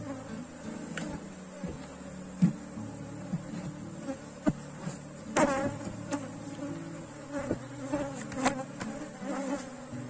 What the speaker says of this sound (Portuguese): Colocar aqui a tampa para o enxame ficar mais calmo, porque ele está muito agressivo.